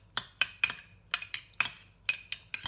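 A spoon clinks against a dish while stirring vegan taco filling seasoned with crushed dried cilantro, making a series of bright, sharp metallic taps in an uneven rhythm, close and clear with no talking.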